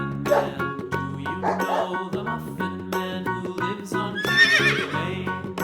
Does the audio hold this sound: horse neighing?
yes